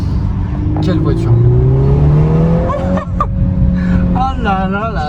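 A VW Golf 8R with an Akrapovič exhaust accelerates hard, its turbocharged engine note climbing steadily through the gears with loud, close revving and a brief shift. An excited voice exclaims over it near the end.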